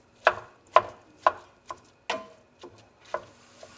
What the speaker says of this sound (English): It's a wand tool that basically makes it easy for you to break your ground beef up into a really good texture